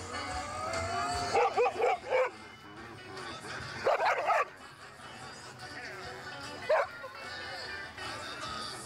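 Trained guard dog barking during a training demonstration, several sharp bark bursts at moderate distance under a background of people talking.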